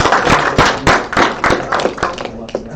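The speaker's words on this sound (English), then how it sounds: "A big round of applause" A convention audience breaks into applause, a dense wash of many hands clapping at once, fairly loud and steady, with a few sharper individual claps standing out before it thins slightly.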